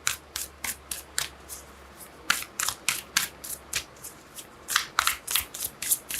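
Tarot cards are shuffled by hand in quick riffling bursts, a steady run of crisp, close flutters and snaps with brief gaps and no talking.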